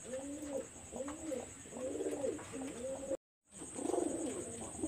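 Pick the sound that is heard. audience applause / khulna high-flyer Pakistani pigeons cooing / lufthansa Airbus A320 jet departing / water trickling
khulna high-flyer Pakistani pigeons cooing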